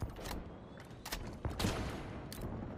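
Rapid bursts of gunfire in an 8-player Halo Slayer match on the Recharge map, a few sharp volleys spaced across a noisy, steady background of game sound, with no voices.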